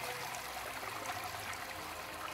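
Water flowing steadily in the Ice Age: Scrat's Nutty Adventure video game, a soft, continuous trickling stream heard faintly over a low background hum, with no voices.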